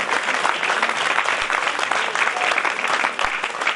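Sustained, fairly loud applause from a crowd of devotees at a Hindu religious recitation, an even rattle of many clapping hands lasting several seconds without talk.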